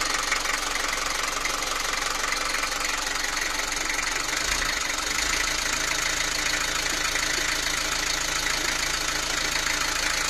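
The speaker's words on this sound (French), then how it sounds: "Et si j'embraye maintenant, vous entendez que le moteur est prêt de caler." Close, steady engine drone under load with the power take-off engaged, its rough knocking pulse sagging as if about to stall, then briefly dipping before carrying on.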